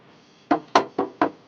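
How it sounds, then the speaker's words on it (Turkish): Four firm knocks on a door land in an even rhythm, close and loud against a quiet room. "Kapı mı çalındı ne?"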